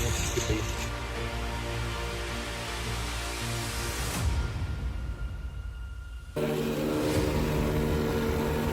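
A plate compactor runs over a base of 57 limestone gravel for a retaining wall, a loud steady engine drone with a brief drop in the middle before the pounding resumes.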